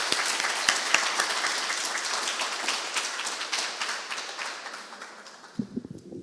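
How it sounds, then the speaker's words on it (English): A crowd at a museum poetry event applauds with dense, sustained clapping that gradually thins and fades toward the end. "So one more round of applause and come back."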